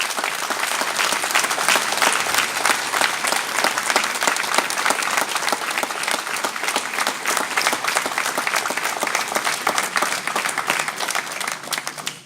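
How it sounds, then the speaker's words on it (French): A crowd at a French civic New Year's greetings ceremony in Persan gives long, sustained applause, dense and even clapping that holds at a steady loudness for about twelve seconds. "Je voulais qu'on l'applaudisse pour le remercier."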